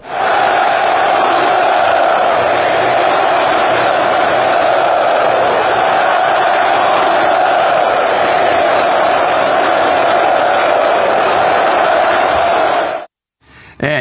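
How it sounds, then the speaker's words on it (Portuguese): Football supporters in a stadium crowd after the final whistle of a Corinthians draw at Neo Química Arena, a loud, sustained roar of chanting and shouting filling nearly the whole stretch before cutting off abruptly near the end. "o futebol também vem decepcionando o torcedor, que protestou muito após o apito final."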